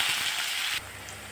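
Curry leaves, onion and dried red chillies fry for sambar, giving a bright, steady hiss of oil sizzle that drops abruptly to a softer crackle near the end.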